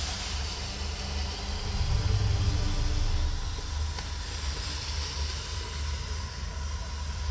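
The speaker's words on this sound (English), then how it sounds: "Steam, not smoke." Broad, steady steam hiss fills the scene in the video game A New Beginning, loud and continuous, swelling briefly partway through over a low rumble, with no voices.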